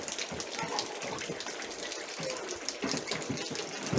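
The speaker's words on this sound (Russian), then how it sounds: "Вот наши гусята устроили купание." Goslings bathe in collected water outdoors, and a steady splashing, gushing wash runs continuously with small irregular splashes, moderately close.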